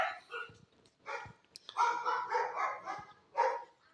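Kanni breed puppies bark and yip in short high bursts, several overlapping and close by, then a longer run of yelping toward the end.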